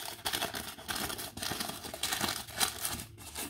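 Close crinkling and tearing of paper wrapping around a bar of shaving soap, a run of quick rustles and rips with short pauses, no talking.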